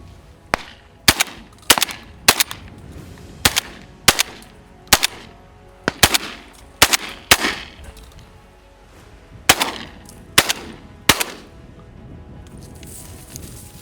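Shotgun blasts ring out during an African wing-shooting bird hunt, about fifteen sharp, loud reports in quick irregular bursts, some doubled, with echoing tails and no talking.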